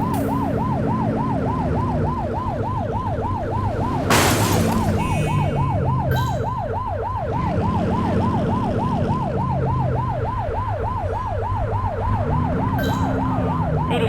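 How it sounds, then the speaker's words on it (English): A police car siren in the video game The Precinct wails in a fast, continuous yelp that cycles steadily throughout, with a sharp burst of noise partway through and low engine rumble beneath; nobody speaks. "Get behind them and blip the siren and make them pull over."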